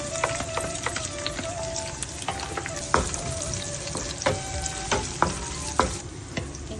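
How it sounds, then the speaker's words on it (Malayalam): Cumin, onion, curry leaves and dried chillies sautéing in hot oil, a close crackling sizzle broken by repeated sharp spatula scrapes and taps against the pan. "ഇനി ചെറുതായിട്ടൊരു സവാളയും കറിവേപ്പിലയും നമ്മുടെ ഉണക്കമുളകുണ്ടല്ലോ അതും കൂടി ഇട്ട് ഒന്ന് ജസ്റ്റ് ഒന്ന് വഴറ്റുക"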